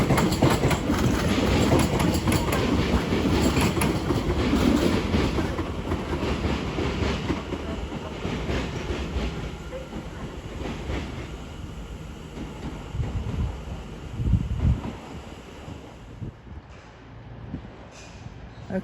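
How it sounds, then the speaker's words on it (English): London Overground class 710 unit 710 379 pulls out of London Euston, wheels clattering rhythmically over rail joints as the rumble grows loud nearby, then thins and fades away. "Now the prime is the 1300 London Overground service to Watford Junction. 710 379 takes this one out."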